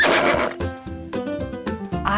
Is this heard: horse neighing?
yes